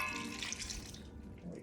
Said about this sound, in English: So I'm going to add the marinade right now